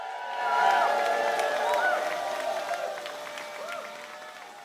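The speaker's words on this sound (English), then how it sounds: "everybody give them a big round of applause" A crowd at a Purim celebration applauds the Megillah readers, with clapping swelling early and tapering off, overlaid by whooping, cheering voices.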